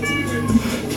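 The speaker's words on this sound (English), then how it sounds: "Meow, meow, meow." A single drawn-out cat meow, fairly close and clear, with a slight rise in the middle.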